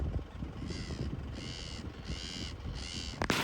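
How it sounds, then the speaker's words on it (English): Crows caw in a rural village on a quiet morning, four drawn-out harsh calls spaced evenly about a second apart over a steady low background hum, with no talking. "I will show you some of the bird species we have here"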